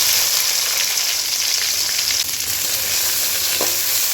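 Chopped onion frying in hot oil with whole cumin and bay leaves, a loud, dense, continuous crackling sizzle close to the pan with a faint scrape near the end and no voices.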